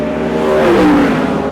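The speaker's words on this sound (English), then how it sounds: "As the cars go by, the amount of wind that comes off of them" Race cars sweep past at a track, a loud close rush of engine and wind noise swelling and falling away within about a second and a half.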